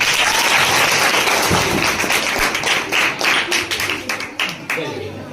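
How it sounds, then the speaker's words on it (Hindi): An audience at a science-magic show debunking superstition claps loudly in a thick, continuous burst that thins into scattered, uneven claps toward the end, with some voices underneath. "चलो ताली बजाएगा।"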